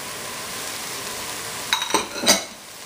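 Scallion, thyme and parsley being stirred in a pot over high heat, a few close scraping, clinking strokes near the end above a steady low background hiss.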